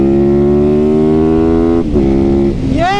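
A supermoto motorcycle engine holds a loud, steady tone close by, then dips and revs up with a rising whine near the end.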